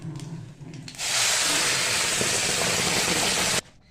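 A coriander, green chilli and garlic paste hits a pan after a nigella seed tempering and erupts into a loud, steady hiss and sputter that holds for a few seconds and then stops abruptly.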